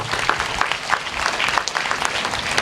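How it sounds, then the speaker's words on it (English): A school audience at a National Science Day celebration applauds two prize-winning students. The clapping comes from many hands as a dense, even patter that holds steady at moderate loudness throughout, with no voices over it. "Big rounds of applause to them."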